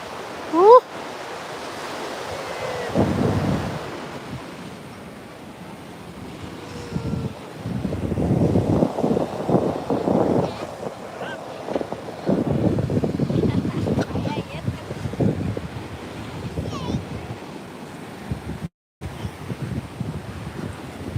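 Surf rolls in at Panambur Beach on the coast, with waves surging in broad washes between quieter stretches. Heavy wind buffets the microphone.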